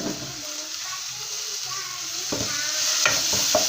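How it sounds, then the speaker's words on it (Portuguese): Tomato sauce with oregano sizzles and bubbles in a pan while a utensil stirs it, with a few sharper scraping knocks toward the end. "É só para dar uma refogada no nosso molho"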